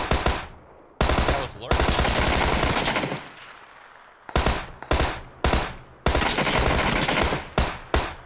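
Loud, close automatic gunfire in PUBG comes in long sustained bursts and shorter volleys separated by brief pauses, with a brief spoken remark among the shots.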